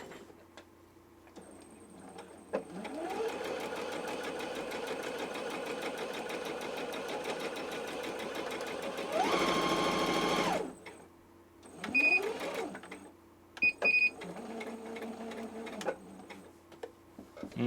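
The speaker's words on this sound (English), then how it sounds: "So now we're going to see how well it sews." A compact infomercial sewing machine runs in a long, steady mechanical hum with rapid needle ticking, then shorter stop-and-start bursts with clicks between them.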